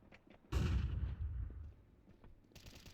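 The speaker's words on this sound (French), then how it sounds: "Throwing a flashbang." A flashbang grenade going off in the video game Counter-Strike 2: a sudden loud blast that rumbles and fades over about two seconds, followed by another sharp onset near the end.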